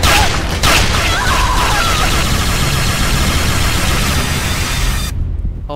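Gunfire in an animated SMG4 western film, a dense, loud burst of rapid shots and booms that fills the air almost continuously before cutting off abruptly near the end.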